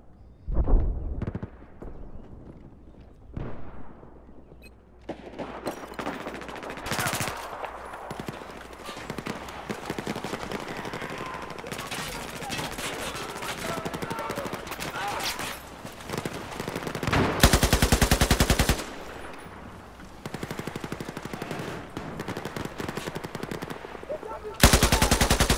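Gunfire in the Lost Islands map of a competitive shooter game, with loud bursts of automatic fire and single shots spread across the clip amid steady game noise, including some long sustained volleys.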